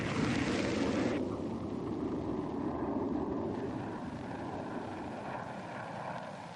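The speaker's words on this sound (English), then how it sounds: "The A-6 Intruder had the world's most sophisticated electronic navigation and targeting systems." An A-6 Intruder attack aircraft flies past, a loud continuous jet roar that fades slightly and thins out over several seconds, with no voices.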